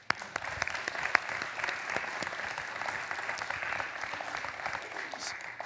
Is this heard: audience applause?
yes